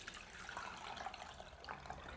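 Warm herbal Kool-Aid pouring through a strainer gives a steady close-up splashing trickle of liquid that lasts the whole moment without any voice.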